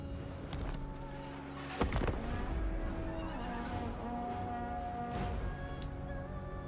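Cavalry horses neigh and whinny loudly in the Total War Warhammer III video game, several overlapping calls over a steady battlefield din, with a sharp thump partway through and a hint of clopping hooves.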